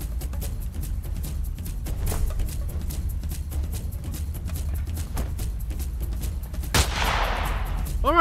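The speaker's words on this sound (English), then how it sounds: "People are shooting at me!" Gunshots in an action comedy short film, a steady rattle of repeated shots with a few louder cracks and a sharp burst near the end, no talk.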